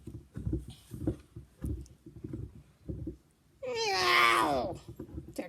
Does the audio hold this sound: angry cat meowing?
yes